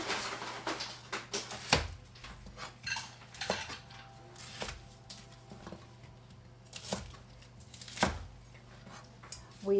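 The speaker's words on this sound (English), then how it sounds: "this time I will cut the chou Bruxelles, the Brussels sprouts" A knife cuts Brussels sprouts on a board in quiet, uneven chops and knocks, with a few sharper thuds standing out among softer taps.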